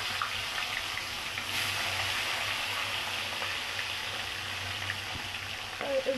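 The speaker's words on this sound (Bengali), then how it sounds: "তেল দিয়ে মাছটা ভেজে নেবো" A katla fish head fries in hot oil with a steady, fairly quiet hiss and sizzle, a low hum beneath it and a few faint clinks near the end.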